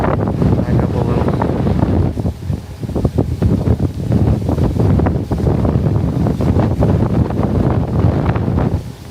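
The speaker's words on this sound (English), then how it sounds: "Very windy." Strong, steady wind buffets the microphone outdoors at the Surf Ballroom, with loud low rumbling gusts throughout and faint voices underneath.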